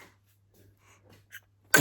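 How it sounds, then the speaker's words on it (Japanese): A small, cute sneeze bursts out loudly and close at the very end, after a near-silent stretch holding a few faint breaths and a soft sniff over a low steady hum. "あれだ、シンプルくしゃみだったね今、珍しく。"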